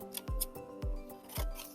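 Scissors snip through paper strips for a craft project, three crisp cuts at an even pace, close and clear with no talking.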